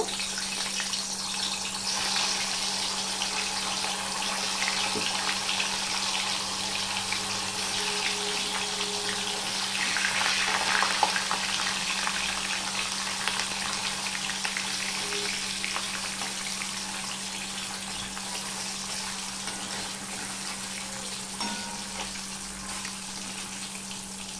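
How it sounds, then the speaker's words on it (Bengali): Cubed paneer, about 250 grams, sizzles lightly in hot oil in a pan, a steady soft crackle and hiss with a low hum underneath and a brief swell midway. "এবার পনিরগুলো আমি হালকা করে ভেজে নেব"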